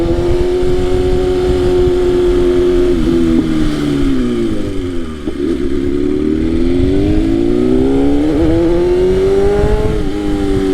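A motorcycle climbs steep San Francisco hills near Lombard Street, its loud, close engine droning steadily for the whole stretch, revving up and easing off so the pitch rises, dips and climbs again, with no talking.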